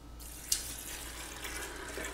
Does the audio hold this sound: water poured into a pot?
yes